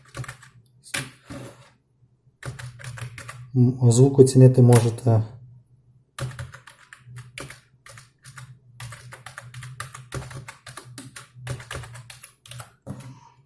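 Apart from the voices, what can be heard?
typing on cheap computer keyboard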